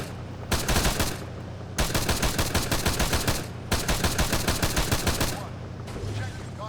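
Rapid automatic gunfire in the video game Arma 3, three loud sustained bursts of evenly spaced shots with short pauses between them, close and dominant.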